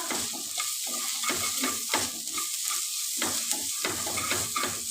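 Potato filling seasoned with amchur powder is stirred in a pan, a spoon scraping in quick repeated strokes over a soft oily sizzle, close up and steady with no voices.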